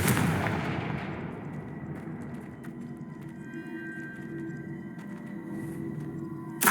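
A Confringo spell explosion in Hogwarts Legacy bursts loudly at the start and fades into a long rumbling decay, with a low continuous hum beneath and a sharp pop right at the end.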